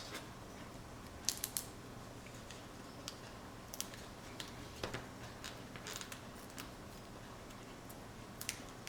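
Scissors snip through a paper cutout for a St. Patrick's Z-fold box card, giving a few faint, sparse clicks and cuts over a quiet background.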